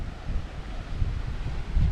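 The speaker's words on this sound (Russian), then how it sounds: "Вон какие брызги летят от волн." Waves crash and spray against a rocky Pacific shoreline on the windward side in strong wind, a steady low roar with gusty wind noise buffeting the microphone and no voices.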